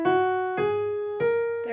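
Notes of a major scale, including the leading tone, sound one at a time in an even rhythm, each with a clear struck attack and a ringing decay, played close and alone without any talking.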